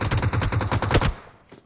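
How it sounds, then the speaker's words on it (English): Rapid automatic fire from a G36 rifle in the PUBG Mobile video game, a loud, fast rhythmic burst of about a dozen shots that stops abruptly, followed by a faint short tail. "as we see gunfire raining out. That is the G36, I believe, getting used here."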